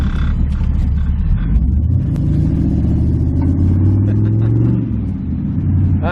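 A PT GT fitted with an LS2 V8 revs loud and close, its deep rumble rising and swelling through a steady run of throttle, then easing briefly before building again, with no talking over it.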